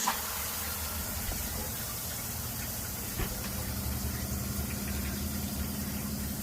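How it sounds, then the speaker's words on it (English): An RV water pump runs in a van's water system, a steady low hum and faint vibration held at an even level throughout, with a small bump near the middle and no talking. "You want to use a regular RV pump."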